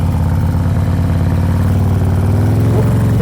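A motorcycle engine hums steadily during slow friction zone practice, a continuous loud low drone with slight rises in pitch as the throttle builds, close to the microphone and without talk.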